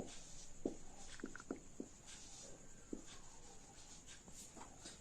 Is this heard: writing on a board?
yes